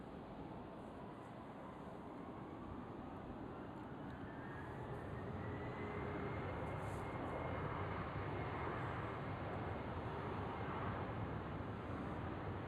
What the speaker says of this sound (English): Next one to depart from over there is a KLM 787